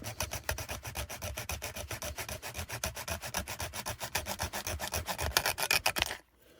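Zona hand saw with a wooden handle cutting a wooden frame part, a steady run of rapid, close rasping strokes in a fast back-and-forth rhythm that stops abruptly near the end, with no voices.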